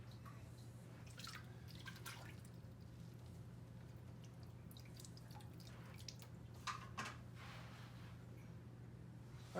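Water drains and drips from a 90 gallon aquarium in a faint, scattered patter of drops over a steady low hum from equipment.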